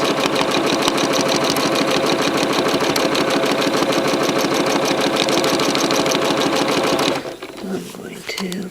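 Sewing machine stitching rapidly and steadily while free motion quilting a lattice grid, a loud continuous mechanical whir that stops near the end, leaving softer handling noises.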